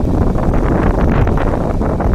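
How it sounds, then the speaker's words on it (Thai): Strong cold-season wind buffets the microphone in a dense, continuous roar outdoors, loud and steady throughout with gusty swells and no talking. "โอ้ลมแรงมากครับ หน้าหนาว"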